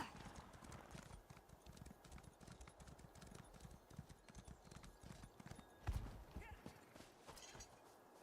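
Horse hooves clip-clop in a steady, brisk rhythm in the video game Elder Scrolls Online, fairly quiet and close, with a slightly louder thump near the end.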